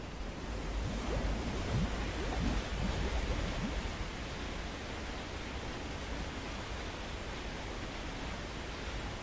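Water rushing and draining through an ancient temple cistern in Rise of the Tomb Raider, a steady broad wash with some low gurgling surges early on, continuous and fairly loud throughout.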